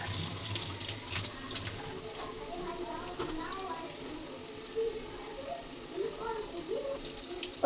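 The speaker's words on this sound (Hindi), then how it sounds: "यहाँ पे प्याज टमाटर भी धो लेती हूँ।" Onions and tomatoes are rinsed under a running kitchen tap, water splashing and trickling with shifting clatter as the vegetables are handled, while someone speaks softly over it.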